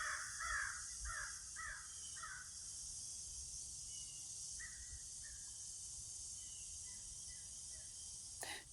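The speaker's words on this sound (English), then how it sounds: "Crow's one of my friends." A crow caws in the woods, first in a run of four harsh calls, then in softer, more distant bursts, over a constant high hum of insects.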